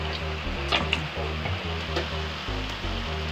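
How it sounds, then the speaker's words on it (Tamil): Coconut oil hitting a pan of moringa leaf stir-fry with a steady close sizzle and crackle, plus a few brief clinks and scrapes of stirring throughout. "இப்போ தேங்காய் எண்ணெய் கொஞ்சம் ஊற்றிக்கலாம்."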